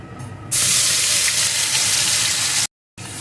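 Spice paste drops into hot oil with fried lentil pakoras, bursting into a loud, continuous sizzle and hiss that holds steady at close range, broken by one brief silent gap before the frying resumes.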